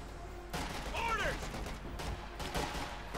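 MG-34 machine gun fire in the video game Company of Heroes 2 comes as bursts of rapid gunfire with a whistling sweep, mixed with other battle effects, fairly loud and dense.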